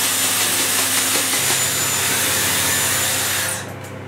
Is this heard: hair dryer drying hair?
yes